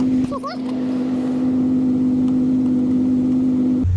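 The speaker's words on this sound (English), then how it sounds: "I do that and the mower starts up" A 2003 Murray riding mower's small engine catches and runs with a steady loud drone, a brief clatter at the start and a sudden cutoff near the end.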